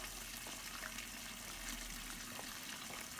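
Water circulating steadily through the pump of a homebrewing system during a brew day, recirculating while chilling, a constant faint wash with no talk.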